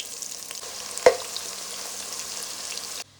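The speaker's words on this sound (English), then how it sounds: "So I'm gonna start frying my seasoned breadfruit." Seasoned breadfruit fries in hot oil with a steady, soft sizzle, broken by one sharp clack of a utensil partway through before the sound cuts off.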